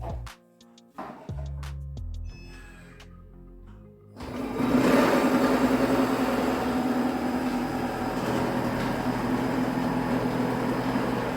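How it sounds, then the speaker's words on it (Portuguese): A Moulinex i-Companion food processor grates parmesan cheese. Its loud, steady motor whirr and grinding start abruptly after a few short tonal beeps, then continue evenly to the end. "vamos ver agora como é que a Companion se comporta em ralar esse queijo"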